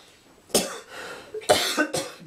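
Three bursts of harsh, raspy coughing, close and fairly loud, separated by short pauses with no talk.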